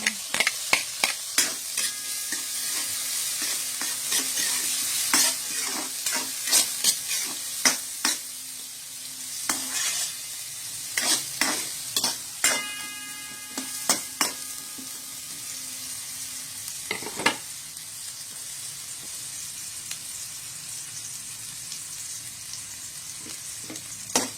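Garlic, tomato and bay leaf sauté in a pan for squid adobo, loud sizzling punctuated by a rapid run of sharp stirring scrapes and clacks that thins out later, no voices.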